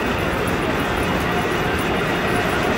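A Saudi high-speed train traveling around 250 km/h, heard from inside as a loud, steady, broadband rumble and hiss of rolling motion with no distinct breaks.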